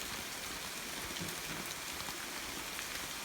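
Steady rain pouring down around a waterfall lodge in Costa Rica's Diamante Verde area, a dense constant hiss of drops with scattered close patters, with no talking.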